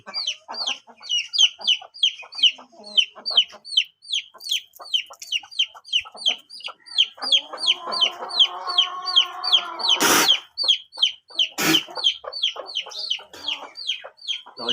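Roosters, kept as fighting cocks at a home, cluck in a steady rapid chatter throughout, one crowing in a long drawn-out call midway, with a couple of sharp bangs near the end.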